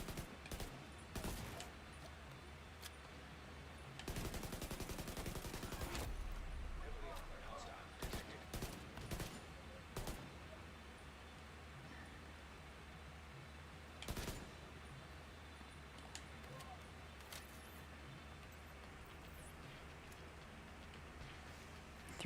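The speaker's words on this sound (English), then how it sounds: "Getting shot at by a shotgunner." Enemy shotgun fire in a video game, with bursts of gunfire blasts and a longer loud barrage, heard under ongoing talk and game noise.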